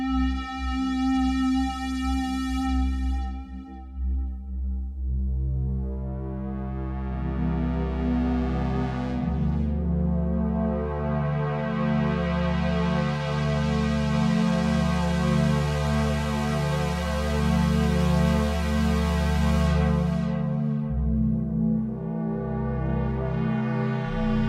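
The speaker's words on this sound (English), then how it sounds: "Analog OB square pad." Omnisphere's Analog OB square pad preset played on an MPC Live 3, sustained warm synth chords with slow swells and bright filter sweeps rising and falling, loud and steady with no voices.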